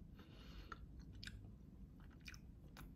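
Someone bites into a chocolate-coated pineapple cake ice bar with a hard, crunchy coating, close and quiet. A few sharp crunches are followed by softer chewing over about three seconds, with no talking.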